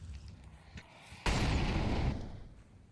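A scout sniper rifle shot in a Counter-Strike match on Dust 2, a single sharp, loud crack followed by a booming tail that fades over about a second, over faint game ambience.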